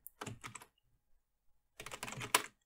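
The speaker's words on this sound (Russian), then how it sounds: "Видите, да, я печатаю" Two quick bursts of close computer keyboard typing separated by a second of silence, rapid clattering keystrokes with no voices.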